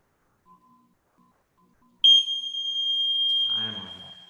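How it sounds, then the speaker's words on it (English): After near silence, a workout interval timer at a BJJ core session lets out one sharp, high, sustained electronic beep that holds for about a second and a half before dropping into softer room noise. "Let's stop the timer."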